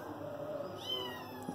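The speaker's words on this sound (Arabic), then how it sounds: "هكذا استمتعنا بالقطط وشكاوى القطط في البحث عن الطعام" Kittens meow as they search for food, a short high mewing cry rising near the end over a steady low background hum, with no talking.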